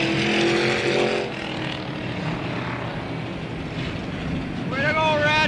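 Street stock cars circle Slinger Speedway during a 1985 Sportsman's division race, a sustained engine roar with rising and falling revs from passing cars, heard under a track announcer's voice over the loudspeaker.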